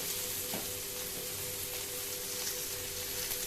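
Chopped tomato and salt sizzle and fry in a hot pan while cooking a chutney, a steady dense crackle with a faint stirring scrape near the start, no voices.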